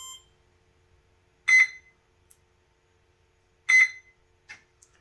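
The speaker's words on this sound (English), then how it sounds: "the little singing sound of ArduPilot with the buzz beep that tells me that we're disarmed" An ArduPilot H743 flight controller in a classic Gee Bee Sportster "E" RC plane gives two short, bright buzzer beeps a couple of seconds apart, followed by fainter chirps, set against near silence.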